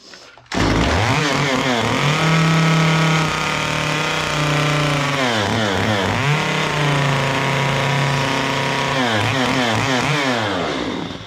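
Chainsaw carving a simple wooden gnome, starting up loud and close, then alternating sustained high-revving cuts with repeated drops and rises in pitch as the throttle is eased and squeezed.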